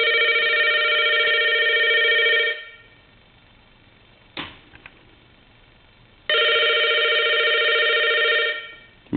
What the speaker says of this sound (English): Let's go ahead and ring the phone.